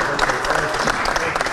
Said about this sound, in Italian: ci sta l'applauso